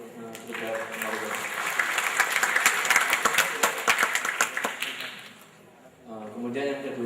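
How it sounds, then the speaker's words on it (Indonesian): Audience applause for a Reog Ponorogo dance group at a stage performance, swelling into dense clapping and then fading out, with a voice speaking before and after it. "Dan tepuk tangan dulu untuk grup Reok Ponorogo."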